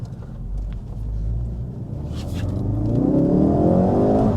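A Ford Focus RS accelerates hard in first gear, its engine note climbing steadily from a deep rumble to a rising, louder roar heard from inside the car.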